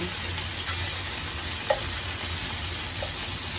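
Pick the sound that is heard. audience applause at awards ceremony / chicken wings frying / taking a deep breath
chicken wings frying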